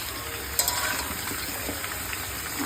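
Potatoes for a meat curry frying in oil in a home kitchen, a steady close sizzle running alone throughout with a few faint stirring clinks.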